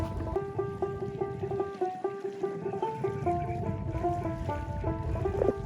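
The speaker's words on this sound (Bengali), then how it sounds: "আমরা যেই ট্রলারে উঠেছিলাম, ট্রলারটিও পৌঁছে গেল ঘাটে।" A motorized river trawler pulls in to a ghat landing on a canal near a char in a Bangladeshi village, its engine giving a steady, rhythmic chugging hum with pulsing tonal notes, close and fairly loud throughout.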